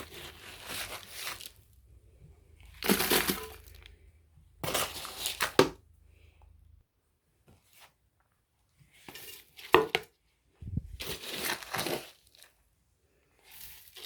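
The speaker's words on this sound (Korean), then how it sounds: "제가 한번 이제 여기다 흙을 넣어 볼게요" Damp potting soil scooped and dropped into a pot for repotting a Christmas cactus, several short scraping and rustling bursts separated by silence, close and fairly quiet.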